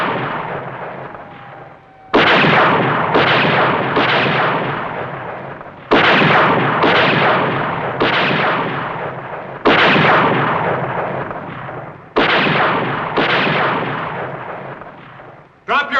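Gunfire in a film scene: several loud, sustained bursts of heavy shooting, each starting sharply and fading out, repeated about five times over the clip.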